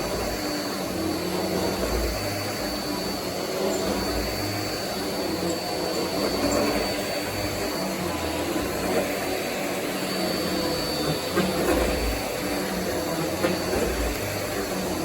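Bissell DigiPro 6900-C canister vacuum cleaner running steadily with a loud, continuous whooshing roar and a high whine, close and uninterrupted.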